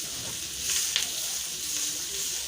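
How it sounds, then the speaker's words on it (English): Pepper frying in butter in a pan for a coconut milk sauce, a steady bright sizzle with faint stirring scrapes, close and continuous with no talking. "So we've added our pepper and it's frying so beautiful."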